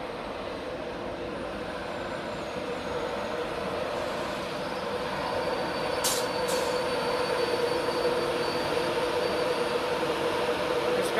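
A train moves through a platform at Doncaster station with a continuous rolling rumble and wheel noise that grows slightly louder, plus two brief high squeals partway through; no one speaks.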